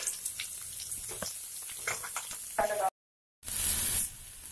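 Curry leaves pop and sizzle in hot tempering oil with irregular crackles, then a brief silence, then a short burst of steady frying hiss.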